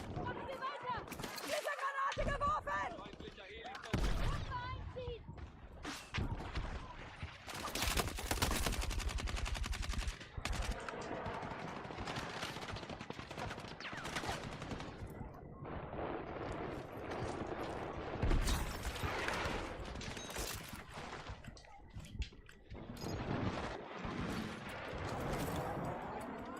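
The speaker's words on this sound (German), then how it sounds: "Granate geworfen!" Battlefield 6 combat with a grenade blast and bursts of automatic gunfire, loud broadband cracks and thumps scattered throughout, with players talking over the action.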